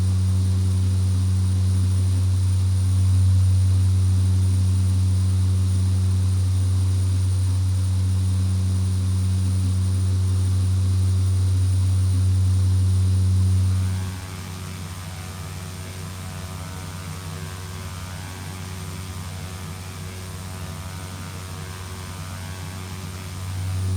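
Beechcraft B200 twin turboprop cruising in X-Plane 10, a steady loud low drone with constant engine hum that drops to a softer level partway through, continuous with no talking.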